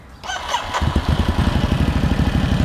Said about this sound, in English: the under tail twin exhaust just grab my attention all the time because they look freaking awesome and they sound awesome too. Here is a sample of the exhaust note.